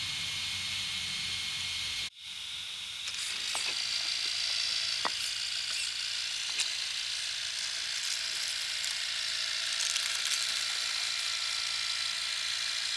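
An RC Marlin crawler running with the throttle pegged, giving a steady high-pitched electric motor whine and hiss that holds level after a brief dropout near the start, close and alone with no talking.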